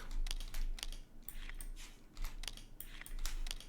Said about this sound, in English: We need to shuffle these back into the deck.